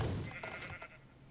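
Sheep bleating in the video game Minecraft, one short wavering bleat up close near the start, fading out quickly with no talk over it.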